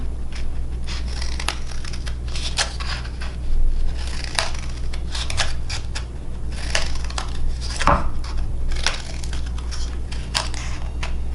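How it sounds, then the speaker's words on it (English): Scissors snip repeatedly into watercolor-painted paper, cutting evenly spaced lines for a weaving craft, with close, loud, crisp cuts in an irregular rhythm over a steady low hum and no talking. "this gives me a starting point to cut into so that I can cut into those lines equally on both sides"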